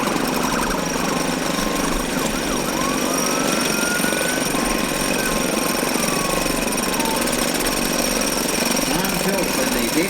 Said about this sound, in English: Here's the little David Bradley tractor